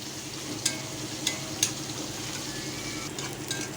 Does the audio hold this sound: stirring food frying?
yes